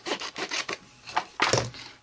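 Scissors or a paper trimmer cutting a clear stamped paper piece for a CD cover craft, heard as several close, dry rasping snips in quick succession with brief pauses between them.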